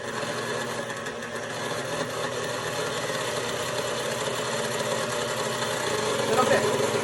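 KitchenAid stand mixer whirring steadily as it mixes a filling in a home kitchen, a continuous motor hum with a slight rise in speed, and people talking faintly in the background.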